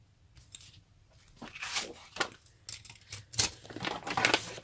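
Scissors trimming paper for a handmade folio craft, several close, crisp snipping and rustling bursts spaced irregularly, growing busier toward the end with light paper handling between cuts.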